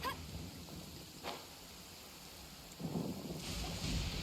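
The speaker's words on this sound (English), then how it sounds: "Oh no, lightning." Thunderstorm in the video game Genshin Impact, rain hissing steadily with a rumble of thunder building near the end and a brief crackle early on, fairly faint overall and free of speech.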